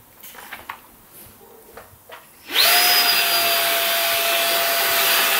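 A Rowenta RH95 handheld stick vacuum cleaner, used to suck up cocoa powder, starts after a few light clicks and handling sounds, then runs with a loud, steady whine that stays close and constant.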